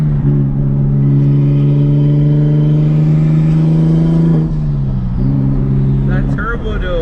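Turbocharged engine of an 800 HP big-turbo BMW 335i, loud and close, holding a steady high drone that dips and then rises again, with a brief chirp near the end and people talking over it.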